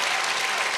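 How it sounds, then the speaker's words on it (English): Applause from an audience at a government excellence awards ceremony, a brief burst of many hands clapping together, loud and dense. "can we give a round of applause"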